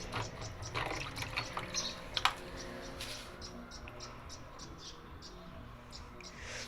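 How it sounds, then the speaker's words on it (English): Water slowly draining out of an LG washing machine that shows an OE error, a steady, low, wash-like trickle with faint clicks and gurgles running throughout. "It's draining the water from here, but it's quite slow."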